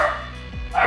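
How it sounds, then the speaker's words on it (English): A noisy dog at a brewery lets out two short, close, loud barks or yips, one at the start and one at the end of a brief moment. "Having a dog that's very noisy."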